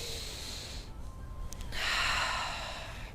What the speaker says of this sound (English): Just starting by taking a couple deep breaths in and out.